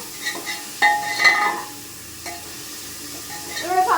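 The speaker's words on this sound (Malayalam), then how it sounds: "അപ്പോൾ നമ്മുടെ ഉള്ളിൽ നന്നായി വഴണ്ട് വരട്ടെ" Onions sauté in a pan for a wedding-eve bone and ash gourd curry, giving a soft close sizzle broken by a few stirring clatters and clicks, with no voices.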